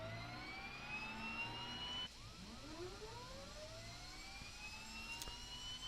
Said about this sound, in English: go ahead and start the engines up here.